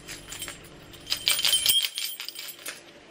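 Jangling keys for a new place, with bright metallic clinks and chinks in short bursts through the clip, fairly close and with no talk.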